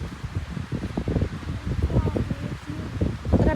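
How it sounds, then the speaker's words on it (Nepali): Wind gusting across an open hilltop, buffeting the microphone in uneven rumbling bursts with rustling throughout; no one speaks. "अहिले चाहिँ हावा चलिरहेको छ मेरो कपाल उडाइरहेको छ"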